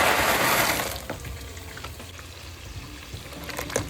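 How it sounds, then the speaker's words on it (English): Dry pasta noodles drop into a pot of water that has just stopped boiling for chicken pasta, starting with a brief watery splash and pour that fades into faint trickles and light clinks. "Now I'm going to add my noodles."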